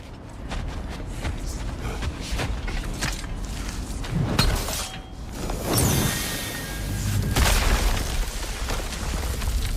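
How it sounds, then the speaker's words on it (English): A heavy door grinding and creaking open in God of War Ragnarok, a long mechanical creak with rumbling booms that swells toward the end, no talk. "A door."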